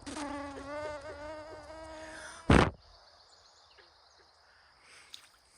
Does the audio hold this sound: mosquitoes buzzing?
yes